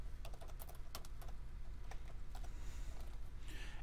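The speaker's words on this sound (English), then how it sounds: "let's type device manager" Fingers type on a computer keyboard while searching for device manager, with quick, irregular key clicks close by and faint, with no talking.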